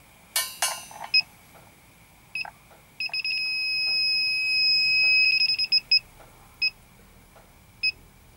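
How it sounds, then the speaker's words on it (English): A tracer gas leak detector, sniffing for nitrogen mixed with 5% hydrogen, gives scattered sharp high beeps, then a sustained tone for about two seconds, followed by a few more isolated beeps over a quiet background. "I've been all around it with the tracer gas leak detector."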